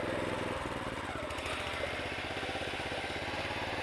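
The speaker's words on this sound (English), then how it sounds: "you guys can see the Greensmaster does a pretty good job as far as handling this slope" A Toro Greensmaster reel mower works uphill on a sloped yard with extra throttle, its engine droning loud and close with a rapid, pulsing chatter from the reel throughout.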